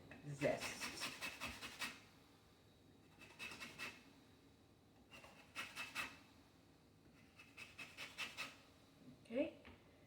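Lemon zest is scraped off a metal grater in short, repeated rasping strokes that come in separate bursts spread across several seconds, close and fairly quiet, with some light handling noise between them.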